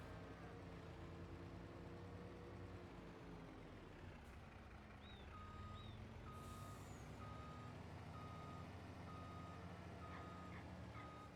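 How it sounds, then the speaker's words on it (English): A milk truck in a farming simulation game idles with a low steady engine drone while a regular reversing beeper sounds repeatedly over it, close and continuous. "So there's the milk truck all ready and raring to go."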